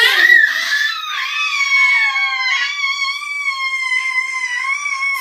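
Children shriek and squeal in long, high, sustained screams, one voice after another, loud and close with no talking between the cries.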